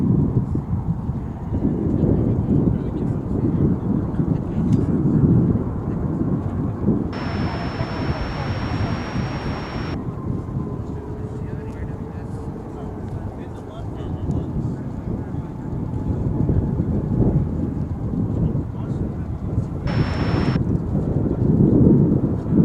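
An American Airlines jet takes off from runway 18 left at DFW International Airport, a long, loud, low roar rolling on throughout, with short air-traffic radio voices and beeps cutting in over it.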